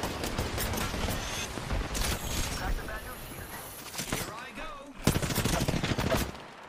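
Kraber sniper rifle fire in an Apex Legends fight: loud gunshot blasts and rattling game action, with a strong burst near the end, heard close under a talking voice.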